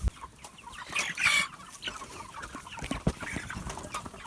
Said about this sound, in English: Chickens, Misa.